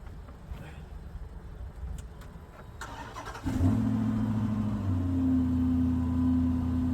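A Chrysler 300C cranking and firing on a new Everstart Maxx battery: low rumble and clicks, then the engine catches abruptly and settles into a steady, slightly rising idle hum, close and alone.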